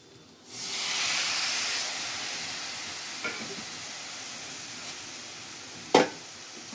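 Tomato pieces hit a hot pan with a sudden loud hiss that swells into steady sizzling, then slowly settles, with a couple of brief clinks near the end.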